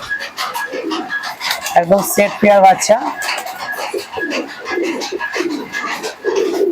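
Teddy and Moyna Jack pigeons, a breeding pair with chicks, give low repeated coos close by, partly under someone talking.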